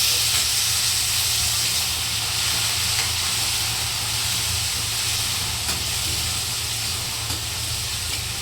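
Tomatoes frying in a hot pan give off a loud, continuous sizzle and hiss. The sizzle stays dense and steady throughout, with a few faint clinks and no talk.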